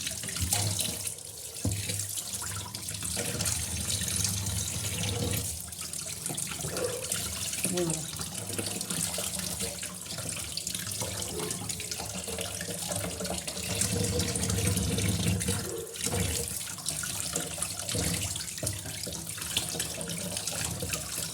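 Tap water runs steadily into a sink while mackerel (bangda) are washed and cleaned, a continuous close splashing rush with brief handling sounds mixed in.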